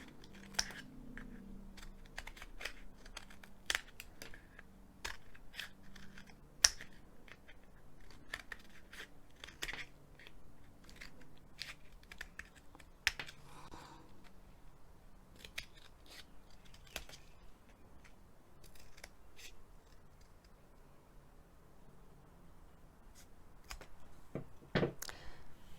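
Scissors snip paper shapes for homemade Christmas decorations in a quiet room, a run of faint, irregular close-up clicks and cuts with no talking.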